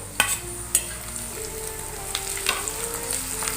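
Ginger-garlic paste with chilli sizzles and crackles steadily in a hot pan, with a couple of sharper pops near the start and a continuous frying hiss.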